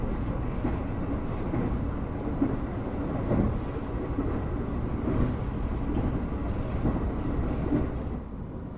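Fajar Utama executive-class train travelling from Yogyakarta, a continuous low rumbling roar with faint rhythmic rail knocks, heard steadily from inside the carriage.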